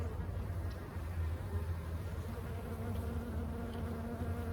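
Honey bees buzz steadily around an open Layens hive during an inspection, a dense, continuous drone close by with no breaks and no talk.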